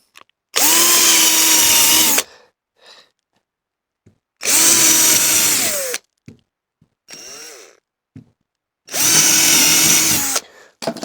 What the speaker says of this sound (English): drill number 2 is driving the screws in